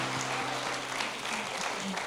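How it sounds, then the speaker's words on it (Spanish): Church congregation applauding, a steady wash of clapping that fills the whole moment, with faint voices and a low hum mixed underneath. "ese aplauso que me dieron"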